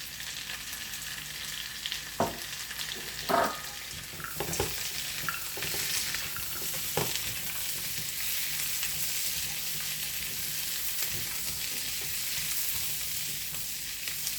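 Green beans fry in a hot pan, a steady loud sizzle throughout with a few scraping stirs and clatters early on.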